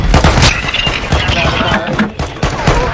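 Sniper gunshots in a shooting video game sound as loud, rapid cracks and bursts of gunfire in a dense exchange, while players talk excitedly over the shots.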